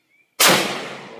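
A single sharp shot from an FN Five-seveN 5.7 pistol cracks out loud after a moment of near silence, then rings off in a long fading tail.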